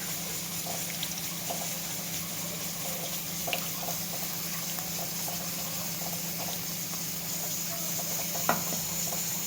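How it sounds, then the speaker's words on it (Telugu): Orange peel chutney with tamarind juice is stirred in a pan, giving a steady bubbling simmer with a few soft spoon scrapes and light knocks, close but fairly quiet, without talk. "బాగా కలపాలి"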